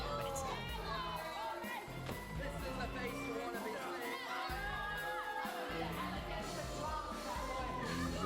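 Fans at an Aftershock Pro Wrestling show cheer and shout continuously, a dense roar with whoops and higher children's yells rising through it, loud and sustained throughout.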